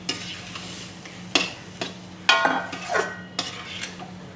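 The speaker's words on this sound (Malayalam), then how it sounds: "വേവിച്ച് വെച്ചേക്കുന്ന ഈ ചെറുപയറും കൂടി നന്നായിട്ട് അതിനോട്ട് തട്ടി നന്നായിട്ട് വരട്ടിയെടുക്കുക" Cooked green gram stirred with grated coconut and melted jaggery in a pan, a utensil scraping and knocking against the metal in irregular strokes over a faint steady sizzle, close and fairly loud, with no talking.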